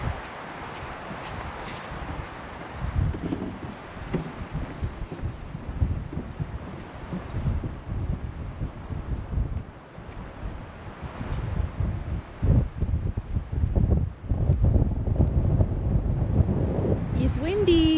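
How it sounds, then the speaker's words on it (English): Wind on an exposed mountain stretch of the Pacific Crest Trail near Mount Laguna buffets the microphone in loud, uneven gusts, a roaring rumble that swells and drops around a speaking hiker. "It's windy."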